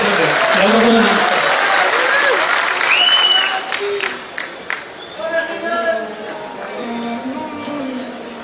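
Audience applause at a public stage event with dignitaries, a sustained burst of clapping that fades into crowd murmur and scattered voices.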